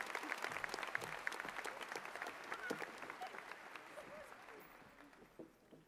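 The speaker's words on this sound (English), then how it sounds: "Please join me in applauding our class and these outstanding accomplishments." Audience at the 2018 Atlantic Coast High School graduation applauds the graduating class, a dense, steady wash of many hands clapping that tapers slightly toward the end, heard at moderate distance.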